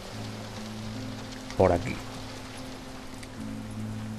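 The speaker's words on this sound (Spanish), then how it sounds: "está cayendo una lluvia lateral de esta tocahuevos que te da en la cara y te la deja congelada" Sideways-driven rain in the Western shooter Call of Juarez Gunslinger makes a steady, soft hiss throughout, with a man's brief spoken line over it midway.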